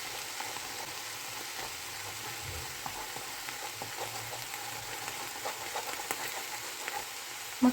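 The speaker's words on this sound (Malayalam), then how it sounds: "ഇനി നമുക്ക് ഈ മുട്ട ഇളക്കി കൊടുക്കാം." Salted beaten eggs frying in a pan for Kerala-style red spinach thoran, a steady soft sizzle with light stirring scrapes, ending in a brief louder knock.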